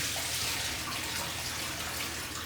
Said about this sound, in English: I like to give them a bit of a rinse.